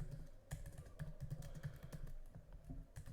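Quick, uneven keystrokes clatter on a computer keyboard, a run of soft close clicks with short gaps, faint overall and with no voices.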